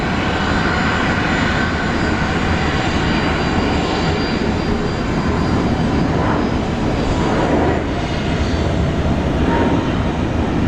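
Jetstar jet airliner departing runway 19 left at Brisbane International Airport at sunrise, a loud, steady engine roar holding for the full stretch without letup.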